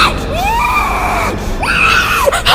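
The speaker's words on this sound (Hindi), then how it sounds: "सोनम चीखते हुए उठी" A woman screams loudly, her shrill voice rising and falling in long piercing wails that continue for a couple of seconds.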